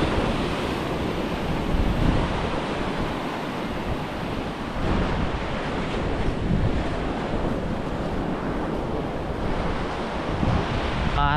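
Sea waves roll steadily onto the shore at Bukana under strong, buffeting wind, forming a dense and continuous roar with no voices.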